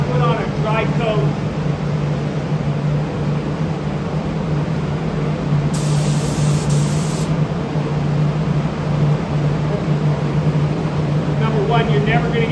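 A spray gun lays down a coat of waterborne paint in a steady, loud, continuous hiss that runs the whole time, with a low hum beneath it and a voice faintly talking at the start and end.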